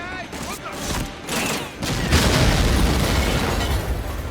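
Barrels blowing up in the WWII shooter Medal of Honor Frontline: heavy booming blasts and crackling gunfire-like bursts, loud and dense, continuing as a sustained rumble through the second half, with a voice talking early on.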